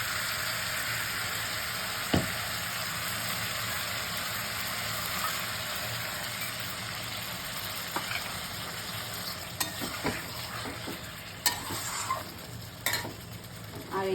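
Soaked masala frying in a pan for potol kosha, a steady close sizzle running throughout with occasional sharp clinks and scrapes of stirring toward the end.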